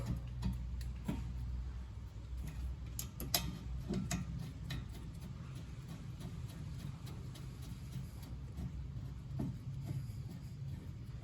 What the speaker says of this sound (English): we're just going to come back, wind these bolts back into the caliper